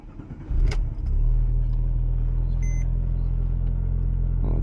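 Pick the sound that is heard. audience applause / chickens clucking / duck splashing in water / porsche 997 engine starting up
porsche 997 engine starting up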